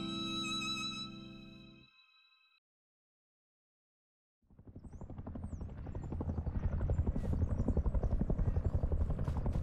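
Helicopter in a multiplayer video game, a loud rotor thumping that fades in after a brief silence and holds as a steady chopping drone, preceded by a short tonal game sound.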